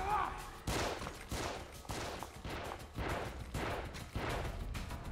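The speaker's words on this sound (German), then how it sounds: "Hör auf zu schießen" Rapid gunfire in the shooter game TEW: The Assignment, a rhythmic series of about eight loud, close shots at roughly regular intervals, all sounding in the same way.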